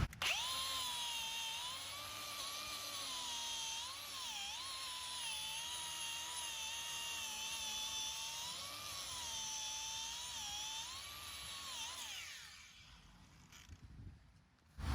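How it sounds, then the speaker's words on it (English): An angle grinder whines steadily at high pitch while cleaning rust from the front brake hub of a Fiat Punto, holding loud and even for about twelve seconds before spinning down and stopping. "before I put it on, I need to clean up this first, and the easiest way is just to use a grinder"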